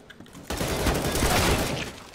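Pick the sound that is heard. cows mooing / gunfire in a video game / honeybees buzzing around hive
gunfire in a video game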